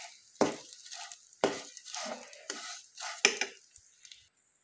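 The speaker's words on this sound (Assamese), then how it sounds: "এতিয়া ইয়াতে এই চেৱৈকণ ভাজি ল'ম" Sewai vermicelli frying and being stirred in a pan, heard as a run of scraping strokes with soft sizzling between them, close and fairly quiet.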